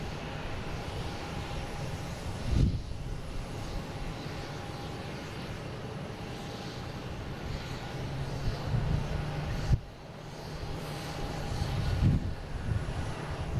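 An Aer Lingus-type Boeing 767, Flight 155 arriving from Dublin, comes in at Boston Logan with a continuous broad jet engine drone, broken by a few short thumps and gusts of wind noise.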